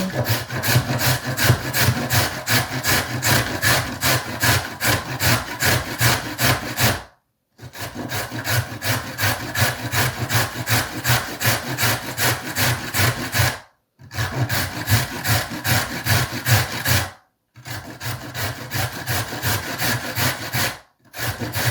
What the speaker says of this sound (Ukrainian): Так, я тру моркву.